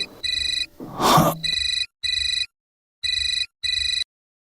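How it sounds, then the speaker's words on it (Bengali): A telephone rings in repeated electronic bursts, six trilling pulses separated by short gaps. A sharp breathy gasp or sneeze cuts in near the start. "ফোন বাজছে।"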